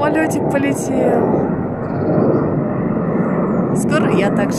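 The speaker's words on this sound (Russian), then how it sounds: "Ой, самолетик полетел." An airplane flying over Vnukovo airport on a frosty winter day gives a loud, steady roar that fills the whole stretch, with a voice briefly heard alongside it.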